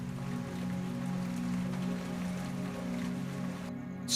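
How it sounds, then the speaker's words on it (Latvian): Rain falls indoors in an abandoned house, heard as a steady, soft patter with a low, constant hum underneath and no voices. "Ēdamistabās un virtuvēs līst lietus."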